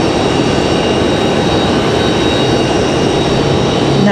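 A Republic Airways Embraer E175 jet arriving at Raleigh-Durham from Boston produces a constant, close broadband engine rumble that holds level throughout.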